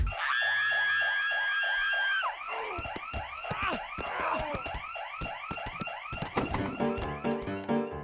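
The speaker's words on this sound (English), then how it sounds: "And then the real siren kicked on." A loud electronic siren holds a steady high tone, then switches to rapid warbling yelps and shifting wail patterns, close and continuous with no voices.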